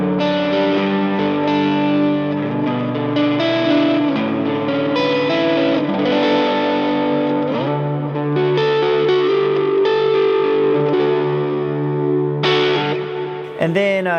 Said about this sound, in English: And then here is the neck pickup.